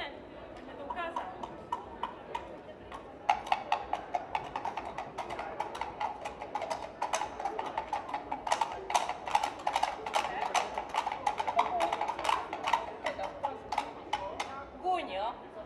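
Rhythmic clip-clop hoofbeat imitation performed at a folk festival in Mikulov, a brisk steady clatter of sharp knocks running for many seconds, with people talking and chattering around it.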